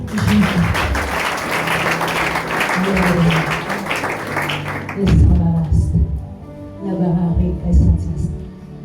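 A church congregation applauds and cheers in praise of Jesus, a loud, dense wash of clapping and voices that swells, dips briefly, then rises again before fading.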